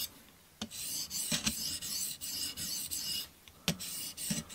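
A sharpening stone on a TSPROF Blitz Pro system strokes across the plunge grind of a TRC XS Splinter fixed-blade knife, giving faint, close raspy scrapes in an irregular run of strokes, some marked by sharp ticks.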